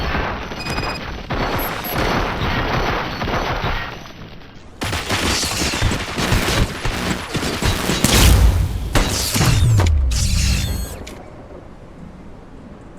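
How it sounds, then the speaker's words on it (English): Heavy gunfire and booming impacts fill a battle in the RoboCop: Rogue City video game, loud rapid bursts with crashes and mechanical clanks, easing toward the end. "Fire at will."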